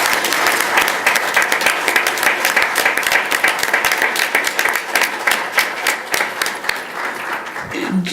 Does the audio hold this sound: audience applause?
yes